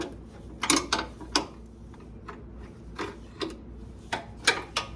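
A 13 mm wrench works a bolt loose on the front beam of a VW Westfalia van, giving irregular metallic clicks and ratcheting ticks close by over a low background hum, with no talk.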